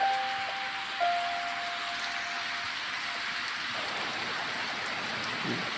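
Steady rain falls in the Roblox fishing game Fisch, an even hiss of drops on surfaces that runs throughout, with a soft tonal hum early on.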